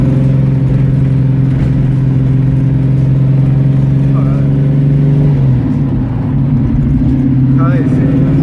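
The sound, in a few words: 1967 Shelby GT500 tribute V8 engine roaring while driving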